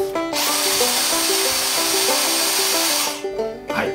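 A Dyson DC31 handheld cordless vacuum cleaner whirs loudly with a high motor whine for about three seconds, then powers down and stops.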